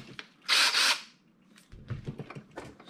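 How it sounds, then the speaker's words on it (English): A power drill drills out the rivets on a diecast toy car base, with a loud half-second whirring burst followed by quieter scraping and mechanical clicks of the tool and workpiece. "That's going to give us a good spot to put in the other drill bit so we can drill the base off."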